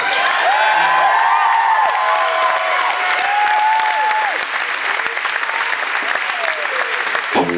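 A concert crowd applauds the bands steadily, dense clapping with scattered cheers and whistles, sustained throughout at close range.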